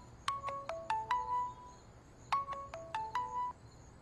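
Incoming-call ringtone on a phone plays a bright melodic chime phrase twice in quick succession, clear and moderately loud over a quiet room tone, with no talking.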